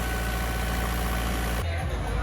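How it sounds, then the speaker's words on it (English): A motor idling right after being started following an electrical repair, a loud, close, steady mechanical drone that shifts in tone near the end. "Yay, the engine fired up"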